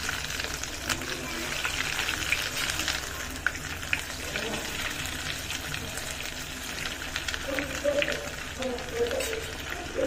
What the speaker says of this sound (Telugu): ఈ విధంగా గోల్డెన్ బ్రౌన్ కలర్ వచ్చేంత వరకు మనం ఫ్రై చేసుకొని తీసేయాలి